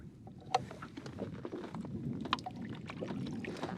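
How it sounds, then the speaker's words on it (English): Water splashes and pours steadily into sample bottles during outdoor water sampling, with a couple of sharper sloshes over a continuous watery wash and some wind. "These are sample bottles that are already cleaned, but we need to rinse them out."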